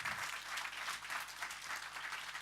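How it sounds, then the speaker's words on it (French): Audience applause follows a talk, a continuous wash of many hands clapping that sounds fairly faint and distant and carries no voices. "Merci beaucoup, on peut l'applaudir très fort."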